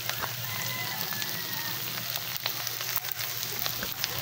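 Carrots and other vegetables fry in a hot pan for fried rice, giving a steady, close, dense sizzle that crackles evenly throughout with no voices.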